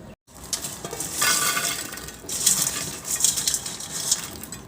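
Fried milkfish and tofu pieces tipped into a mixing bowl, giving a steady run of clinks, scrapes and light clatter of food and utensil against the bowl, fairly close, with no talk.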